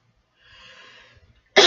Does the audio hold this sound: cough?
yes